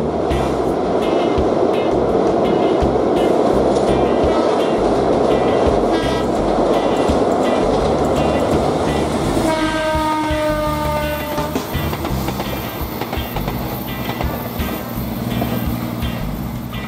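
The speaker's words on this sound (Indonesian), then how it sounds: "Kereta api bandara dari Wajo ke Yogyakarta." An airport train from Wojo to Yogyakarta rumbles past loudly over the Mbeling bridge on the Progo River, Kulon Progo, Indonesia, with a steady roar, and a horn sounds briefly partway through before the noise eases a little.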